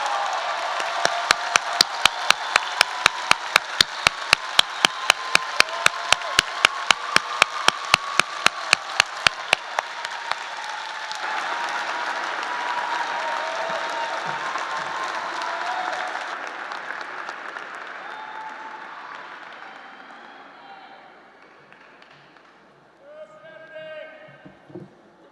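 A large audience at a 2019 psychology commencement applauds graduates, with sharp rhythmic clapping in unison for about ten seconds before it dissolves into sustained dense applause that slowly fades, with voices emerging near the end.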